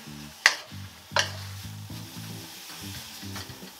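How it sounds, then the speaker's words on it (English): Precooked broccoli is tossed into a hot wok: two sharp clatters of food landing, followed by a quiet, continuous sizzle close by, with no talking. "with the broccoli already microwaved, we want to go ahead and put that into our wok"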